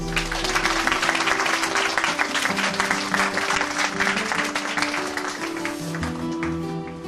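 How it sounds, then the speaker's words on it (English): Audience applause at a two-day national English conference on writing, a dense steady wash of many hands clapping throughout, with music-like tonal layers beneath. "I request all our students to kindly give a huge round of applause to"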